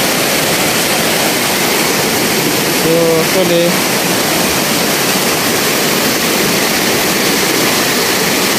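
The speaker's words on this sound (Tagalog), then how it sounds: "Ganito yung ilog dito sa amin pag buma, sobrang lakas, ano?" A large flooded river rushes with a loud, constant roar of churning water, close and unbroken, with a brief voice heard partway through.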